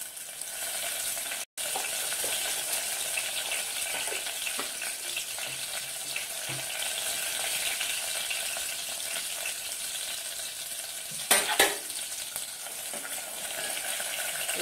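Whole spices such as cloves fry in hot oil in a pan for a broad bean seed masala curry, a loud, steady sizzle throughout with a brief stirring clatter near the end.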